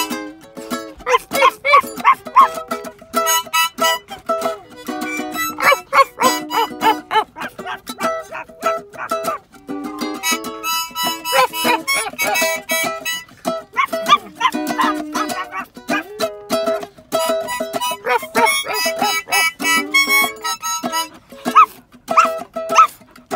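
People imitate a dog's barking, giving a string of rapid, rhythmic 'ruff' barks up close, with bursts coming in quick, uneven runs.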